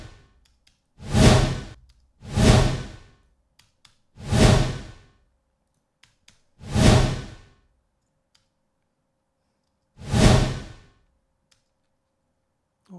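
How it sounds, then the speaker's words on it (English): Five designed whoosh sound effects sweep past one after another with gaps between them, each rising and fading smoothly, full and broad, with silence in between. "Like most of the whooshes sounds, you want to hear those."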